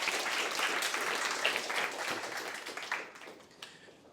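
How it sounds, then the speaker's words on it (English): An audience at a talk applauds, a dense crackle of many hands clapping that gradually thins and fades toward the end. "let's have a round of applause"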